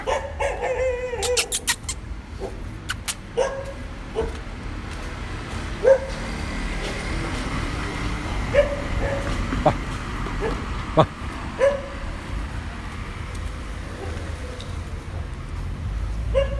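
A dog barks in scattered bursts, some distance off, over a steady outdoor ambience with faint murmuring in the background.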